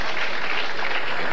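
A large crowd applauds at a Brunswick bowling championship event in Fountain Valley, steady dense clapping filling the hall, loud and close throughout.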